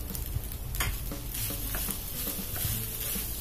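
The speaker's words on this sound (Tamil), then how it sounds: "இப்போ எல்லாமே நல்லா மிக்ஸ் ஆகிற மாதிரி கலந்து விடுங்க." Garlic rice with garlic powder being stirred in a pan, a spoon scraping and turning the grains in steady strokes over a soft, continuous sizzle, close and alone without talk.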